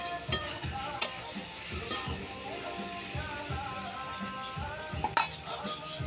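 A spatula scrapes and turns sweet pumpkin fry in a hot pan in rhythmic strokes over a soft sizzle, with a couple of sharp metallic clinks of utensil against the pan.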